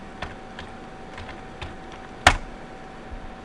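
Computer keyboard typing a short search, a handful of soft scattered keystrokes ending with one sharp louder key press, close and otherwise quiet.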